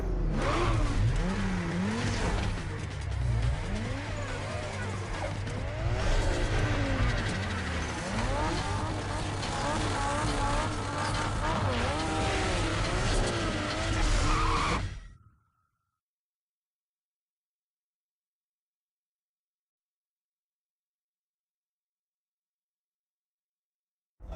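Street race cars in the video game Need for Speed Underground rev and accelerate loudly with engine roar and some tire squeal for about fifteen seconds, then the sound cuts off abruptly into silence.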